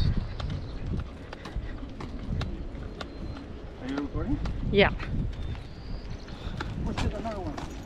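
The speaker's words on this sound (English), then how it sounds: "The horses are coming by again." Horses passing on a walk with steady clip-clopping hooves, moderately near, set against outdoor background noise in Half Moon Bay while people talk over them.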